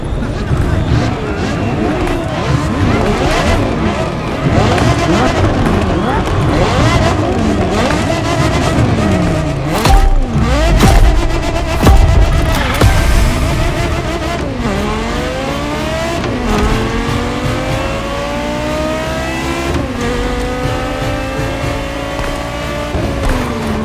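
A Porsche Carrera GT engine in the racing game The Crew Motorfest revs hard and shifts up repeatedly, loud and close, with rising whines that climb through several gears and a brief tire squeal around the middle.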